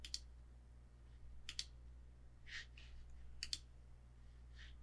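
A computer mouse clicking while a Magic Wand selection is built up, sharp single and double clicks spaced about a second apart, close and quiet in an otherwise still room.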